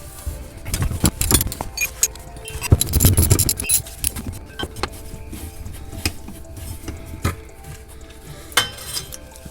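Metal clinks and ratcheting clatter come from a car's shifter area as two 12 mm bolts are loosened and removed, irregular bursts of tool and hardware noise close up.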